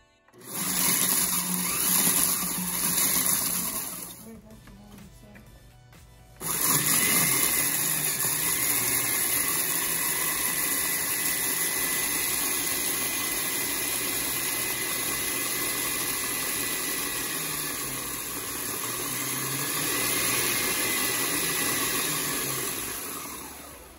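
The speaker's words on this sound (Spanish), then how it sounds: "let's grind this so you can see how it turns" Loud, steady whir of an electric grinder pulverizing dehydrated onions into powder, with a brief pause partway through before the motor runs again continuously to the end.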